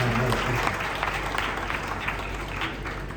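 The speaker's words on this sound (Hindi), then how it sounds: "थोड़ी सी तालियां बजाइए, थोड़ी सी" Audience applause at a Hindi kavi sammelan poetry gathering, a steady dense wash of many hands clapping throughout, fairly loud and close with no talk over it.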